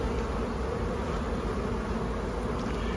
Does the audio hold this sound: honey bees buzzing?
yes